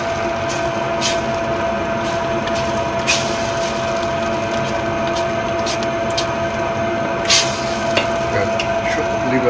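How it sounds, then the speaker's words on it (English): Porcini risotto being stirred in a pan: a soft constant simmer with intermittent scraping clicks from the spoon against the pan, close and fairly loud. "Stirring."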